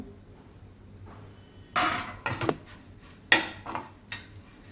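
A lid comes off a pan of capsicum cooked with gram flour, with a couple of distinct metallic clinks and scrapes against the rim over a quiet kitchen background.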